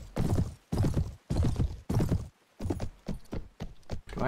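Horse hooves gallop in the video game Mount and Blade: Warband, a loud, close, rhythmic clatter of bursts that turns into lighter, quicker clip-clop steps near the end.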